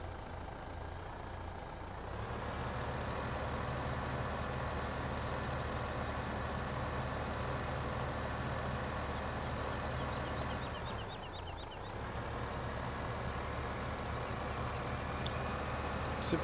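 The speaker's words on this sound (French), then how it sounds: "Il y a la Lamborghini en tracteur" A Lamborghini tractor engine runs steadily with a low, heavy diesel rumble, close and continuous throughout, with a brief dip in intensity partway through before the drone resumes.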